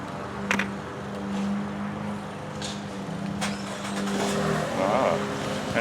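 Cadillac idling and rolling as it is moved, a low steady engine rumble with slight rises in revs, close by, with a few brief knocks and clicks over it.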